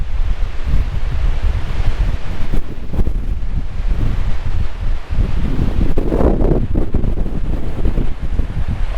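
Strong storm wind blasts over a lake during bait fishing, a loud, continuous roar of microphone buffeting with a wash of water and surf underneath, and no voices.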